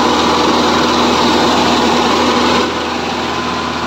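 A Mahindra Novo 655 DI 65 hp tractor's CRDe diesel engine drones steadily up close, loud and constant, easing slightly lower near the end.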